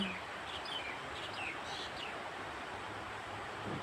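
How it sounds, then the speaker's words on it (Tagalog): Faint birds chirp and call in short bursts over a steady wash of flowing water at a river park in Taoyuan, Taiwan. "Makinig ka ng mga huni ng ibon."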